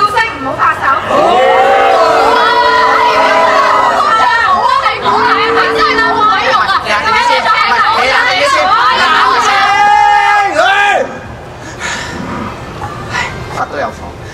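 Live audience at a Cantonese kung fu stage show shouting and cheering, a loud, dense crowd roar that swells for about ten seconds before dropping back to scattered chatter.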